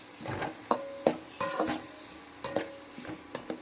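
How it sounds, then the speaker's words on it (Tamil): Onions frying in a pan after mustard seeds for a Rajput-style fish curry, with a low steady sizzle broken by several sharp stirring scrapes and clatters of a spoon against the pan, close and alone. "கடுகு நல்லா பொரிஞ்சிருச்சு இப்போ நம்ம வெங்காயத்தை போடலாம் பொன்னிறமாக வறுக்கணுங்க"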